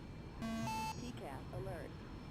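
Cockpit alert tones in the X-Plane flight simulator: a steady electronic beep holding about half a second, then a higher tone, with someone talking over the rest.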